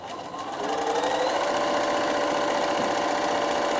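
Sewing machine top stitching down a padded bag handle, its steady rapid whir running evenly for several seconds after a brief start-up.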